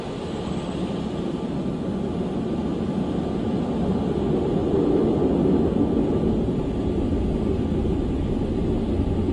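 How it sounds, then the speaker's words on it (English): A Concorde supersonic airliner takes off, its engines a broad, continuous roar that swells toward the middle and holds steady, heard at a distance with no voices over it. "Concorde 272 is now cleared for takeoff."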